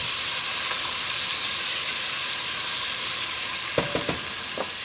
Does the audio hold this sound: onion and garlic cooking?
yes